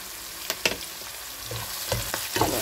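Vegetables and red mullet sautéing in a hot pan, a steady sizzle of frying with several sharp scrapes and knocks of a utensil stirring against the pan, close and fairly loud, no talking.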